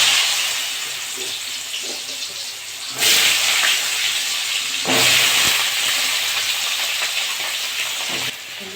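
Potatoes frying in hot mustard oil in a wok, a loud broad hiss that surges sharply at about three and five seconds as pieces hit the oil, then settles into a steady sizzle.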